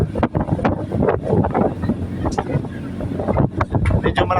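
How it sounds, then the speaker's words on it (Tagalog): Strong wind buffets the microphone in a steady, roaring rumble throughout in El Nido, Palawan, with a voice talking underneath. "Medyo malakas ang hangin"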